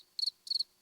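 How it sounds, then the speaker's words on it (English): A single cricket gives two short, clean chirps about a quarter second apart, each a quick trill, faint and alone against a quiet background. "And there's 1 cricket."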